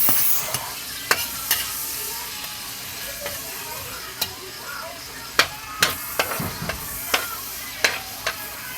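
Garlic and onion frying in a pan, a steady sizzle broken by repeated sharp scraping and stirring knocks of a utensil at an irregular pace, close by.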